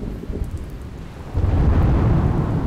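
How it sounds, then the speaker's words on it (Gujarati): Heavy rain pours steadily in Junagadh city during a storm, a dense low roar of falling water that swells louder midway, with a deep thunder rumble and no voices. "જૂનાગઢ શહેરમાં વરસાદનું રૌદ્ર સ્વરૂપ"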